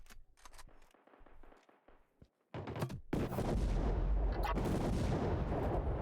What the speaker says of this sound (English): That was a nice grenade there